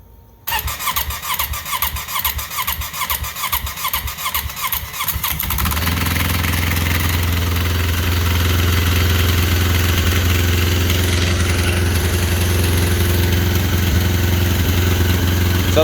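A Yamaha Phazer snowmobile engine, unrun all summer, cranks with a steady rhythmic churn for several seconds, then catches and settles into a loud, constant idle nearby.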